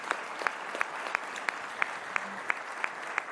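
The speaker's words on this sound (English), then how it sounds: "give yourselves a hand of applause" An audience applauds at an education speech, a steady wash of clapping broken by a regular beat of sharper, evenly spaced claps that carries on throughout.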